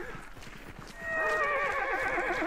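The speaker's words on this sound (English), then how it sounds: "Leave my horses alone" A horse in the Hunt: Showdown video game lets out a loud, close whinny lasting about a second and a half, following a moment of quieter background game noise.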